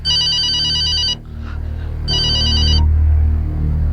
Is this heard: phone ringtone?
yes